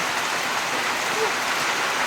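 Rain falls in a forest in the Philippines, a steady, even hiss of drops hitting leaves and ground, constant and fairly close, with no voices.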